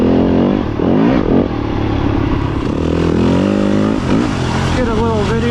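A dirt bike engine revs and pulls in fourth gear along a Michigan single-track trail, loud, close and rising and falling in pitch, with a voice talking over it.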